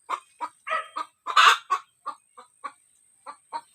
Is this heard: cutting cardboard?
no